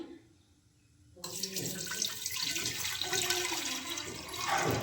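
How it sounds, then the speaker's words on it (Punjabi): After a brief quiet moment, water gushes steadily from a tap into an aluminium pressure cooker, a loud, close, continuous splashing pour. "ਤੇ ਇਹਦੇ ਵਿੱਚ ਪਾ ਦਾਂਗੇ ਆਪਾਂ ਪਾਣੀ"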